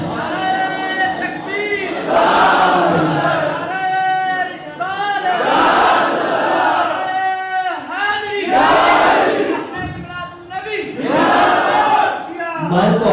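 A large mosque congregation roars a religious slogan in unison, loud massed voices rising and falling in repeated surging waves that fill the hall, with brief dips between calls.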